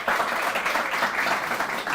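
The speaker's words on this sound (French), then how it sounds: "Il faut applaudir pour Lukula." A school competition audience applauding for a student, dense steady clapping from many hands throughout the brief moment.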